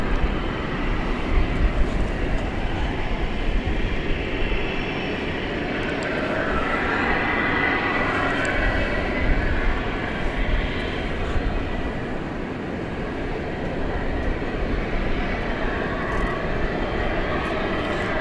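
A Martinair plane at Dallas Fort Worth International Airport at night, heard as a steady, broadband engine roar that holds for the whole stretch at a moderate distance, with no talk.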